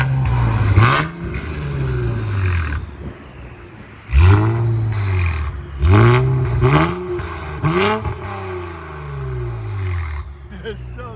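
Infiniti Q60 3.0L twin turbo V6 with its exhaust valves open, revved hard several times in a row, each blip rising sharply to a loud snarl and falling away, close by, with someone talking between revs.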